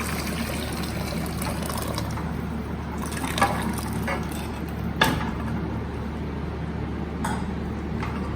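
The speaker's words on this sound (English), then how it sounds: "Then we have to pour water on top also." Water pours steadily into a pot of thick Gujarati dal being made for dal dhokli, a continuous close trickling wash with a couple of brief splashes partway through.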